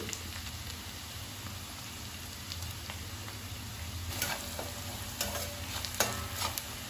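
Onions sauté in a pan with salt and curry leaves, a steady close sizzle broken by occasional stirring scrapes and taps of a spoon, with no talking.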